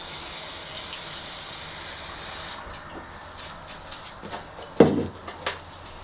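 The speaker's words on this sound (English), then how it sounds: "add some water" Water pours onto corn flour in the bottom of a bowl for a homemade Chinese curry sauce, a soft steady hiss that stops after a couple of seconds, followed by a few faint clinks.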